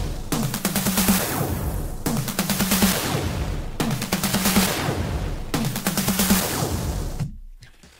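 Drum loop processed with Ableton's Erosion effect in noise mode, a crackling, gritty texture over the beat that repeats in four similar two-second cycles before cutting off near the end.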